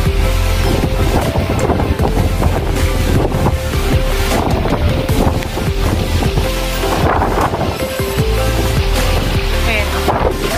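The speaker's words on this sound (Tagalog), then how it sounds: "Silipin natin dito sa may dagat. Parang galit na galit yung dagat." Rough sea and strong wind in Hong Kong during a T8 typhoon, with a constant loud roar of surging water and gusts buffeting the microphone, close and unbroken throughout.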